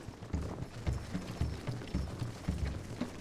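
Cavalry hooves in Shogun: Total War, The Mongol Invasion, a rhythmic, fairly loud clip-clop of galloping horses repeating in quick groups over low rumbling battle ambience.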